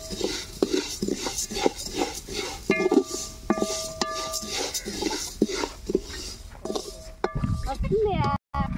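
Paddy rice seeds being stirred while dry-roasting in a pan, a continuous scraping rustle with occasional metallic clinks of the spoon, under a speaking voice.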